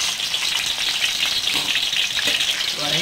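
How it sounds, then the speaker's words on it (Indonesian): Ham nori rice rolls frying in a pan, a loud, steady close sizzle of hot oil with faint stirring and shifting near the end, no voices. "Kita goreng-goreng."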